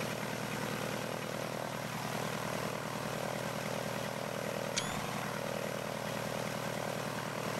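In the BeamNG Drive game, a propeller airplane engine runs at full throttle with a continuous, even droning buzz that holds steady throughout, with no talking.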